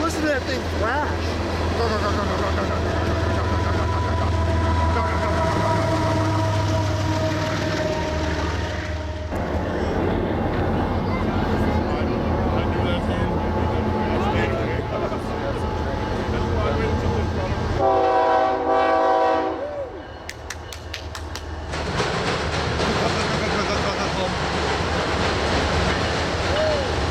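Freight train with container cars passing in Rochelle, Illinois, a loud continuous rumble and rattling roar close by, with a horn-like tonal blast partway through, a dip, then the heavy clatter resuming.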